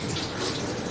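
Tap water runs steadily into a sink or tub for a three-month-old Maltipoo puppy's first bath, a close, continuous splashing rush with no voices.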